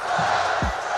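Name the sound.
basketball arena crowd chanting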